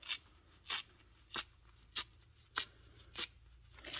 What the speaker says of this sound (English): I'm going to tear this whole strip.